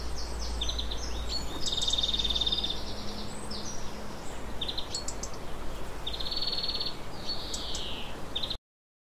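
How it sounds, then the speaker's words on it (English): Birds in an aviary give repeated high chirps and short whistled calls, some near and some farther off, over a low steady background hum. "capture and release of birds like the ones we see around here in this aviary"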